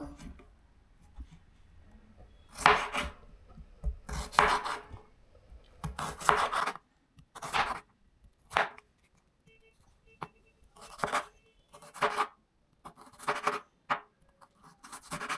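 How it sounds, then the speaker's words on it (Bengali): Onion being cut with a knife on a board, a series of short, crisp strokes arriving in loose clusters with brief pauses between them, fairly close and moderately loud, with no talking. "এখন আমি পেঁয়াজ কাটবো।"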